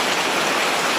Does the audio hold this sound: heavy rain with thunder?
yes